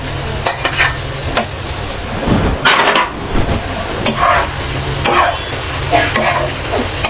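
An egg fries in a pan with a loud steady sizzle, broken by stirring and scraping strokes of a spatula against the pan.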